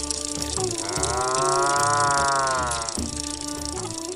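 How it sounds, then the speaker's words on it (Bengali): Cattle tied in a village cowshed give a long, drawn-out moo lasting about two seconds, loud and close, set against steady background noise with fainter lowing before and after. "গোয়ালে বাঁধা গরুগুলো অলসভাবে ডেকে উঠছে।"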